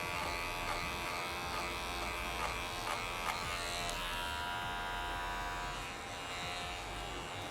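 An electric hair clipper cuts hair at a two-centimetre length during a haircut, buzzing steadily and close with a bright whine, with faint snips of contact through the drone and no talk.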